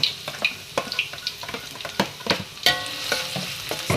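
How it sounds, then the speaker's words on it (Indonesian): Garlic and onion sautéing in hot oil while being stirred, with steady close sizzling broken by sharp scraping clacks of a utensil against the pan. "Minyaknya udah panas, sekarang kita tumis dulu bawang-bawangnya. Bawang putih sama bawang bombay"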